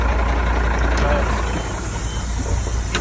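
A Peterbilt truck's engine runs steadily in a yard, a continuous low rumble filling the scene at close range without clear breaks, with a faint voice talking underneath.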